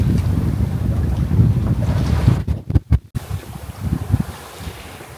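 Strong wind buffets a sailboat at sea off the Île de Ré at sunrise, a steady loud roar of gusts over the microphone with water wash beneath, briefly broken by a few sharp dropouts midway.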